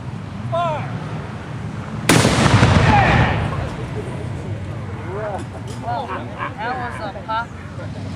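A ceremonial cannon fires once at an Independence Day event, a sharp loud boom followed by a decaying rumble, while crowd chatter and voices carry on before and after.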